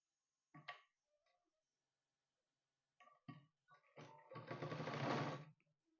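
A sewing machine stitches a pajama waistband for fitting new elastic, running in short bursts: a brief whir, a long pause, then a few quick spurts and a longer, louder run near the end, close by.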